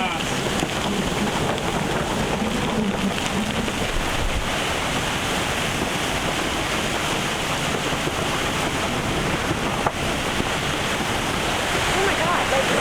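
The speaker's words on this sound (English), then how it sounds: "we've had nearly 40 knots of wind and it came out of nowhere" A sudden gust of nearly 40 knots of wind hits a sailboat off Costa Rica, heard as a loud, steady roar of wind buffeting the microphone over surf.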